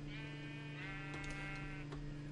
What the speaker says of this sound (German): Und gottverdammte Schafe.